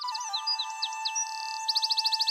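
Small birds chirping, with bright rapid tweets and trills, a warbling run of notes and then a fast evenly spaced series of sharp chirps, clear and close against a faint steady tone.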